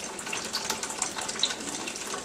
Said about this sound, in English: Turn our water on, flip our diverter valve, select the number that you want to use, Water comes out